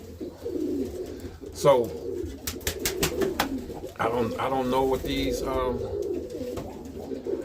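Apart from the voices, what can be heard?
pigeon cooing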